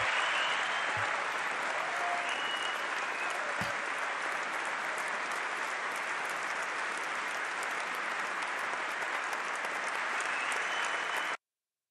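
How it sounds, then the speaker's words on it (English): Sustained applause from a live radio show audience fills the whole stretch, steady and dense with no talk over it, then cuts off abruptly at the end. "I love the clapping with that because it deserved the clapping."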